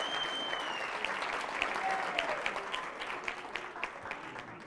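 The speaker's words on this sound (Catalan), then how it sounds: "Un aplaudiment molt fort" Studio audience at a Catalan school quiz show applauding a team's score, a dense, moderately loud burst of clapping that thins into scattered individual claps toward the end.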